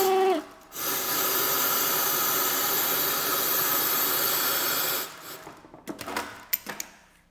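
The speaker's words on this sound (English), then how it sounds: "This noise which you can hear while I am stitching is the suction device for the cutted waste to keep the table clean" Industrial sewing machine stitching a pocket bag while its waste suction device runs, a loud, steady broadband hiss and whir for about four seconds, then stopping into scattered clicks and handling knocks.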